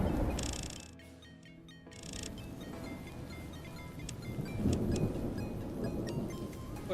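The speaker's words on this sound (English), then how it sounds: "I appreciate the audio of being in a thunderstorm" Thunderstorm weather effects play in the Fallout: New Vegas game world, a steady hiss of rain with a swelling low rumble of distant thunder, moderately loud, with a brief tonal in-game sound near the start.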